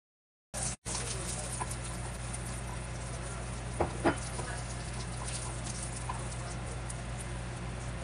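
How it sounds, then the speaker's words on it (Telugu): Coriander seeds, cumin, garlic, green chillies and dried red chillies fry in a pan for an Andhra raw tomato chutney. After a brief start, the sound is a faint, steady crackle with a couple of small pops, and no talking. "ఇప్పుడు 2-3 ఎండుమిర్చి కూడా వేసి బాగా వేపుకోవాలి."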